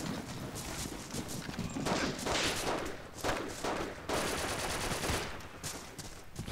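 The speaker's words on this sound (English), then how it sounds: "German taking pot shots at us" Scattered rifle and machine-gun fire from German soldiers in Forgotten Hope 2, with irregular shots and short bursts at mid distance, some louder cracks, and no talk over them.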